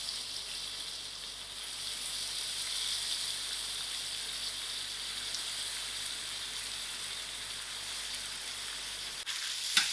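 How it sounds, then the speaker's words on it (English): Onions sizzle in hot olive oil in a pan, a continuous bright crackling hiss that holds steady throughout, ending with a small clatter. "I'm going to add my onions to my oil."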